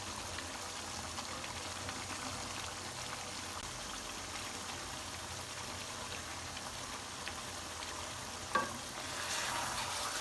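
Beef fries in a pot for korma, a faint steady sizzle with a single brief clink near the end.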